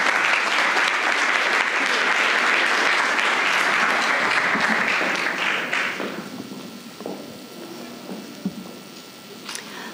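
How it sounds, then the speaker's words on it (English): Audience applause at a crypto meetup: a dense, steady round of clapping that fills the room for about six seconds, then tapers into scattered claps and quiet room noise. "Big applause to Maya"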